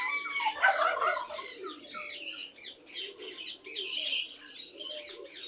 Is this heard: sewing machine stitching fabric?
no